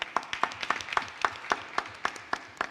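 Applause at a school board meeting honoring student award winners: a steady, moderately sized round of clapping with even, rhythmic claps throughout.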